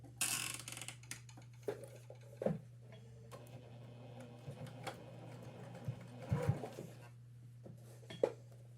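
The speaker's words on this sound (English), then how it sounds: "I'm going to start sewing about right here" A sewing machine runs steadily while stitching a scant quarter-inch binding on a quilted pot holder, its motor humming under quick mechanical ticking, with a few louder clicks and rattles as the fabric is handled.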